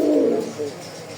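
A male red Rajgolla pigeon gives a short, close, resonant coo that fades after a moment, heard alone and clearly.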